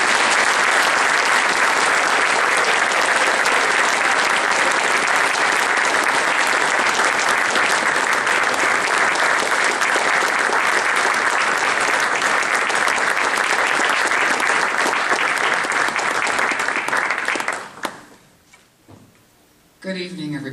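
Audience applause at a Jackie Robinson Society community recognition award ceremony, loud dense clapping sustained for most of the stretch before cutting off abruptly, followed by brief quieter sounds.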